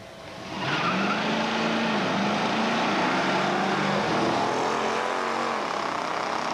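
A Dodge Daytona and a Super Bee, both with 426 Hemi engines and automatic transmissions, roar off the line at a drag strip, engines building into a loud sustained howl as they pass nearby.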